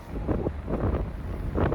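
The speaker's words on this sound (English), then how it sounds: "I'm gonna try to block some of the wind" Gusty wind buffeting the microphone in low rumbling bursts among old-growth Douglas fir trees, loud and close, with no voices.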